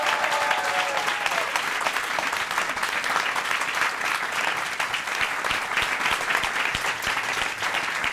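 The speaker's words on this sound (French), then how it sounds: "On l'applaudit bien fort" A studio audience at a French television show claps loudly and steadily for a performing act, sustained dense applause with sharp individual claps standing out, no talking over it.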